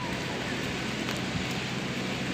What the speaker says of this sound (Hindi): बारिश हो रही है और सफाई करने वाली गाड़ियाँ सफाई कर रही हैं